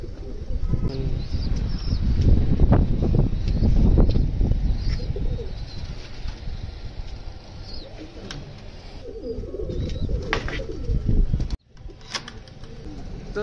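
Pigeons kept in a home loft coo repeatedly at close range, with soft throaty calls, a few brief chirps and occasional rustling or wing movement.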